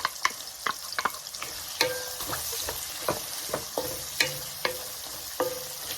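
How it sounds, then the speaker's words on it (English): Onion and tomatoes sautéing in oil with cumin for a lentil curry: continuous close sizzling punctuated by frequent sharp clinks and scrapes of a utensil stirring against the pan, no voices present. "We're gonna saute this"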